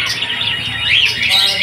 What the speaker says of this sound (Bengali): এই অনেক পায়রা আছে এখানে